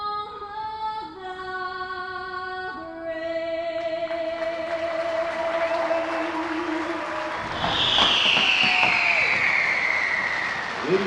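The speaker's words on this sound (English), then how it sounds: "The pregame fireworks are compliments of International Fireworks." Pregame fireworks at a minor-league baseball stadium crackle and boom at a distance as the anthem's closing sung notes fade, the bursts growing denser and louder toward the end, with a whistling rocket streak near the finish.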